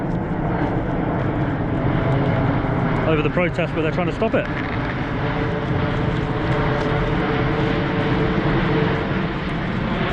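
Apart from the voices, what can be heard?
large Singapore Airlines plane flying overhead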